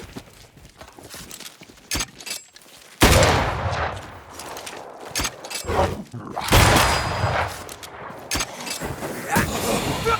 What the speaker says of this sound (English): Corpse cocking its gun.